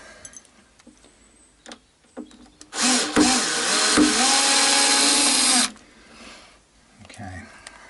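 Power screwdriver backing a screw out of an acoustic guitar during setup and neck refinishing, a steady whirring run of about three seconds, close and loud, with brief clicks and handling noise around it.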